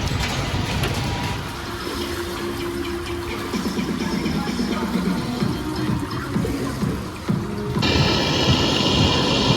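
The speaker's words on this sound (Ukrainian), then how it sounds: "Зараз, як видно на відео, іде дощ" Steady rain falls on an outdoor pool in Bukovel with a broad hiss and patter, mixed with trickling water, continuous throughout and louder toward the end; no one speaks.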